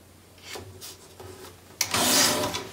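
A paper insert for a scrapbook notebook is trimmed with a paper trimmer, giving soft rubbing slides that end in a sharp, louder rasping cut, close and with no talking.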